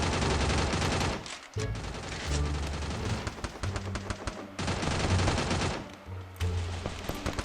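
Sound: gunfire in the video game Free Fire

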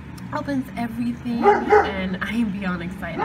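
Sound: dog barking

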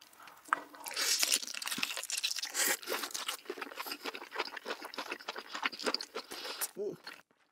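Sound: chewing giant lobster body meat, mukbang

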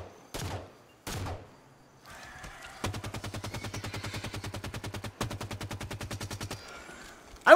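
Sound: gunfire shooting at enemies in video game Halo 5: Guardians

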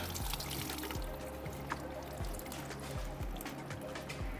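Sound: coolant draining from a BMW F80 M3 engine

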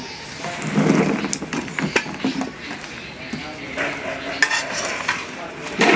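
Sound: mango pieces added to the pan while making pickle

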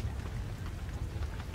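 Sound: rain falling in Roblox video game

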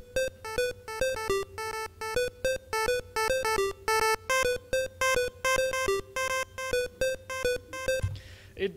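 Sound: Famitracker chiptune pulse 2 channel with filter sweep volume changes

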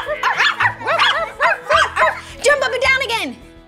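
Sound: child imitating a dog barking

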